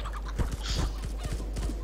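Game chicken clucking in short repeated bursts, close and clear, with no talking over it.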